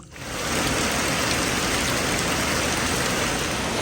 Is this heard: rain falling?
yes